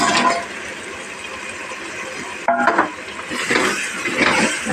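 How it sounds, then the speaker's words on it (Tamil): A spoon scrapes and knocks through vegetarian curry masala with tomato in a pan, close by and fairly loud, with a short clink partway through and a continuous soft sizzle underneath. "நல்லா கிளறி விட்டுட்டு இந்த மசாலாலாம் அதில் இறங்கணும்"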